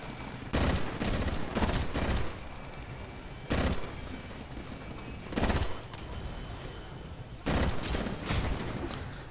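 Gunfire from the video game Titanfall in an Attrition match on Demeter, with loud bursts of automatic shots in repeated clusters over a constant background battle rumble.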